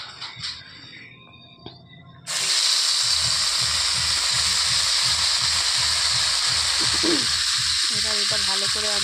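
Mashed green pea paste hits hot refined oil with asafoetida in a kadai, bursting into a loud, steady, close sizzle that holds for several seconds after a quieter start, with light stirring near the end.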